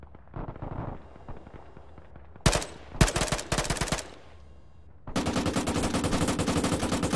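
Machine gun fire in the ARMA 3 video game, a loud close burst of rapid shots, a pause, then a long sustained stream of rapid fire over a low rumbling background.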